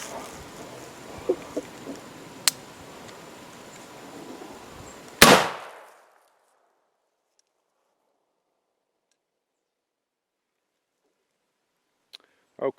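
Philadelphia Derringer replica firing a light black-powder load into a pressure-treated 2x4: one sharp, loud shot after a few faint clicks, then silence with a couple of small knocks near the end.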